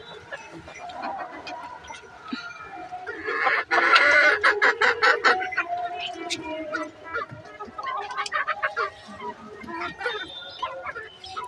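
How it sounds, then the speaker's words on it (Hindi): Desi chickens and a large rooster on a farm cluck and squawk in a busy, uneven stream, with a louder burst of cackling partway through and birds calling close by. "वो मुर्गा है, एक बड़ा वाला मुर्गा बचा है"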